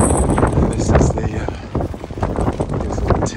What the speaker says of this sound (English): I'm saying it's only got really windy